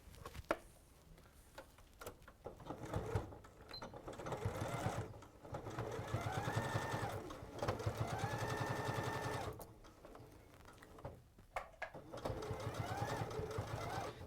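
A sewing machine stitches through fabric, its fast needle chatter running in long bursts that start and stop between pauses, with a person talking over and around it.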